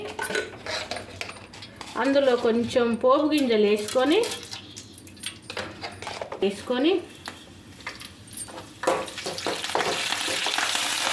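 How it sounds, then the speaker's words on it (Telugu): Tempering seeds crackle and sizzle in about two spoons of hot oil in a pan for fish curry, while metal utensils clink against the pan; a voice sings or speaks intermittently over the cooking. "పోపు మూకుడు పెట్టుకొని ఒక 2 స్పూన్ల నూనె వేసుకొని అందులో కొంచెం పోపు గింజలు వేసుకొని"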